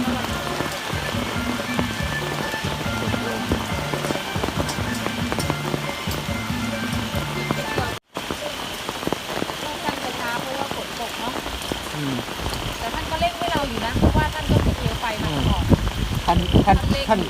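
Steady rain patters on a surface throughout, a dense hiss with scattered drops, while people talk nearby.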